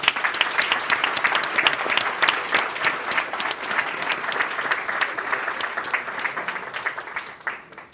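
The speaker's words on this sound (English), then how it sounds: "let us give a round of applause to" A conference audience breaks into a sustained round of applause, dense steady clapping from a full room that holds for the whole stretch and thins slightly near the end.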